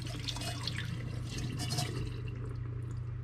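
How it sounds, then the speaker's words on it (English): Water is poured off refined pure gold recovered from gold-filled scrap, a soft continuous liquid trickle and splash, quiet and close, with a steady hum underneath and no talking. "I'm going to pour this water off."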